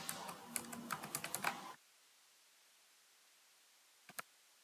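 Rapid keyboard typing as a password is entered on a computer keyboard, a dense run of close clicks for under two seconds, then near silence broken by two quick isolated key taps at the end.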